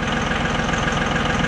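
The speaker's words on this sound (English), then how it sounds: "V8 cat diesel." A cold Caterpillar V8 diesel idles steadily close by, with a low, even rumble, a rapid pulsing beat and a faint knock. No voices are heard.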